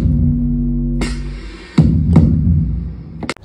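A dark, sustained low synth drone for a horror song hums beneath sharp percussive hits that break in at intervals, before it cuts off near the end.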